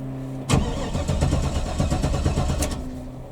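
A 2006 Monte Carlo with a swapped LS 5.3 V8, converted from front to rear wheel drive, cold starts after a brief crank and settles into a loud, rough, close idle.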